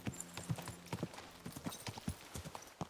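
Horse hooves clip-clop in a steady walking rhythm, close and moderately loud, in the medieval game Kingdom Come: Deliverance II, with the horse slowing to a halt.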